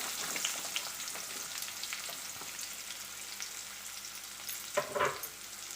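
Chopped onions frying in oil for tomato rice, giving a steady, moderately quiet sizzle with a brief stirring clatter near the end.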